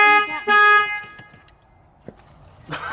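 A car alarm or horn blares in loud tonal blasts at the start, stops, then sounds again near the end, with quiet clicks and rustling between, in a parked car that was broken into and trashed.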